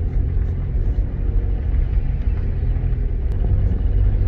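A car engine drones loud and close from inside the cabin during a driving lesson, a steady low rumble as the driver gives gas and pulls away, with no talk over it.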